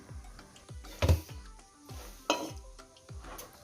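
Kokum fruits are split open with a knife as their seeds are pulled out by hand. Close, dull chopping knocks repeat at a fairly even pace over a soft background hiss, with a couple of louder thuds.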